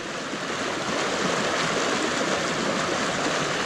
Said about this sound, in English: that water is rushing